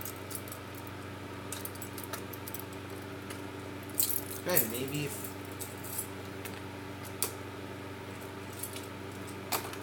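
Faint metallic jingling of a key ring, with a brief louder rattle in the middle, under a low steady hum and a few quiet spoken words.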